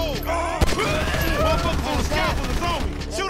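Gunfire in GTA 5 during a gang shootout, rapid bursts of shots and a loud blast over a busy game soundtrack, with a voice shouting over the fire.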